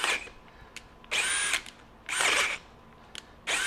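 A DeWalt DCD794 Atomic 20V brushless compact drill driver turns a self-feeding spade bit in short bursts, four brief whirring runs separated by pauses, close and fairly loud, with no one speaking.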